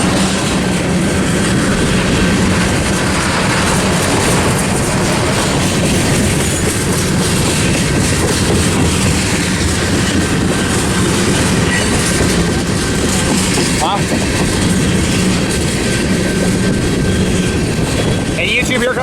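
A long CN manifest freight train rolls past on Tehachapi Pass with a steady, loud clickety-clack of railcars and rumbling wheels throughout, close by and continuous, with a faint horn tone running underneath.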